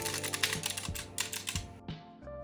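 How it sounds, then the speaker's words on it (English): Rapid clicky keystrokes on a mechanical gaming keyboard, an irregular burst of presses close to the mic, ending with a few louder key thumps. "my very first gaming keyboard. And here's a little sound test for you."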